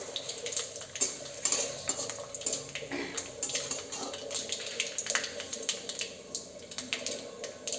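Panch phoron spices, dry red chillies and bay leaves are stirred in hot oil in a kadai, giving close metallic scrapes and clinks of the spatula over a light sizzle, with no talk.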